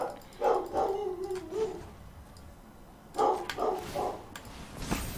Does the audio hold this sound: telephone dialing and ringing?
no